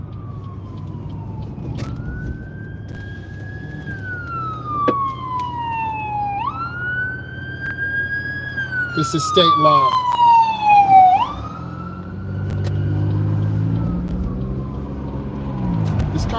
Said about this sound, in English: Looks like I see the police coming.